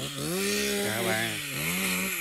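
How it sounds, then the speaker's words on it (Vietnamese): A chainsaw cuts through a tree with a steady, close engine drone that rises and falls in pitch as the blade bites into the wood, heard alone. "coi mấy bạn cưa cây này. Này cưa cây."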